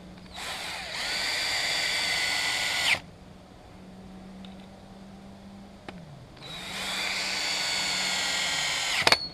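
A power drill drives 2-inch wood screws into the side of a 6x6 wooden gate post. Two long, steady whining runs are separated by a quieter pause, and each ends with a sharp bind as the screw seats.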